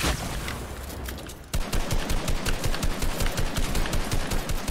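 Rapid bursts of video game gunfire, a short volley then a pause before sustained rhythmic automatic fire crackling loudly and evenly, with no talking.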